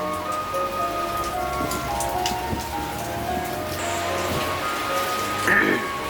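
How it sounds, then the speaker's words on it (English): Wind-blown rain from Hurricane Nicole as it comes ashore in November 2022 makes a steady, dense hiss of drops on surfaces outdoors, with faint gusty rumble beneath. "You can see some blowing rain out there."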